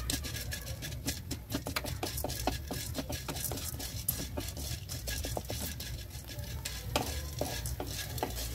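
Whole spices such as peppercorns and nagkesar dry-roast in a pan, a dense rapid rattle of scraping and tapping as they are stirred continuously, close and fairly quiet, with no talk.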